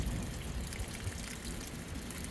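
Water drains out of an Atwood hot water tank in an RV in a steady, close, rushing gush that holds constant throughout without pause.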